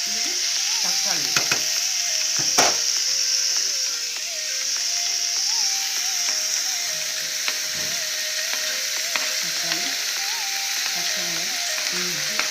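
Masala sizzling steadily as it is sautéed in a pan for a Masala Pathal recipe, with continuous frying hiss and occasional stirring scrapes, close and alone without speech.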